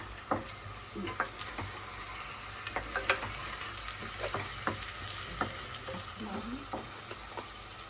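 Whole cardamom, cloves and cinnamon crackling in hot oil for biryani: an even frying hiss broken by frequent sharp pops and ticks of stirring, close and moderately quiet.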